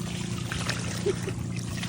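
Cold drinking water from a mangrove spring pours steadily with a soft trickle, close and fairly quiet, with a small splash or gurgle partway through.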